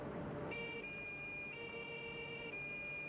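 Ambulance siren heading to a military hospital in Belgrade during sniper fire in Yugoslavia, a steady high two-tone wail sounding after a brief noisy start, moderately distant over background noise.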